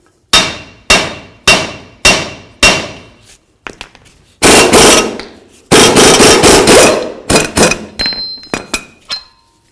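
A hammer strikes a ball joint on the front suspension of a 1999-2007 Ford F250. A run of loud, evenly spaced metallic clangs is followed by heavier ringing bursts and a few smaller taps, close and alone.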